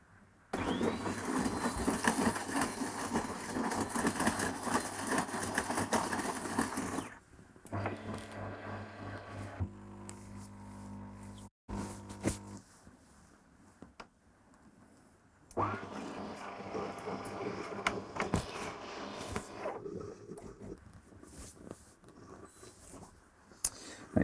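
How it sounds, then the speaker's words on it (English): A De'Longhi Eletta Explore bean-to-cup machine brews an espresso from dark roast beans. A loud pump hums and whirs steadily for several seconds, drops to quieter gurgling and clicks, then resumes its buzzing drone. "Next, brew an espresso."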